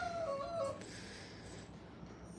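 Seven-week-old Brittany puppies at a kennel let out a few thin, high whimpers and yips early on, fairly faint, then fade into quiet room background.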